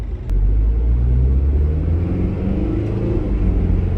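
A Mazda Bongo camper van drives along the road with a steady, loud, close low rumble of engine and road noise, continuous and without talk.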